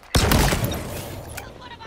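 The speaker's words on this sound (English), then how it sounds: "An electric sniper rifle, this thing." An electric sniper rifle fires in Halo Infinite, with one sharp, loud crack followed by a ringing tail and a second fainter report; a voice speaks faintly underneath.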